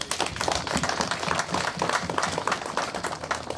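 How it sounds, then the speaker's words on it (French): An audience applauds in a dense, steady patter of many hands clapping, close and continuous throughout with no talk over it. "je voudrais qu'on les applaudisse aussi"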